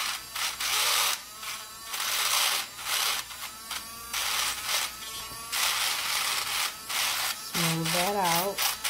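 A small hand file rubs back and forth over the edge of a cured resin vanity tray, giving close, dry rasping strokes that run repeatedly under steady talk, with a brief pitched vocal sound near the end.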